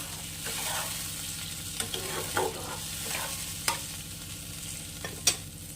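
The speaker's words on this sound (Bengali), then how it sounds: "ঝোলটা কিন্তু সুন্দর ফুটে গেছে" Fish curry broth bubbles and sizzles steadily in a pan on the stove, with occasional stirring clinks from a utensil against the pan.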